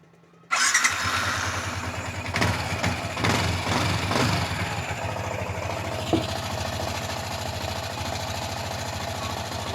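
A Suzuki Sniper 155R motorcycle, just back from a water pump repair, starts abruptly and settles into a steady, close idle with a faint rattling mechanical clatter.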